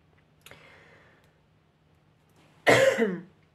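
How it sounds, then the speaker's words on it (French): A single harsh cough bursts out close and loud after a faint click, then fades into silence. "Oui, j'ai toussé et ça m'a fait mal à la gorge"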